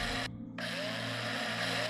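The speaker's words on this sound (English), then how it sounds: "Commence drilling." A mining drill in the space-survival game Breathedge bores into aluminium ore, giving a continuous mechanical whine and grinding hum with a brief dip early on, alone without talk.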